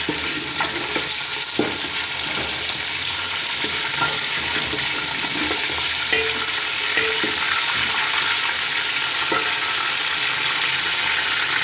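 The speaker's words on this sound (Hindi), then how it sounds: "जब चिकन हमारा अच्छी तरह फ्राई हो जाएगा तब इसको निकाल लेंगे।" Chicken frying in a pan for lobia gosht; a loud, continuous sizzle with occasional stirring clicks, steady from start to finish.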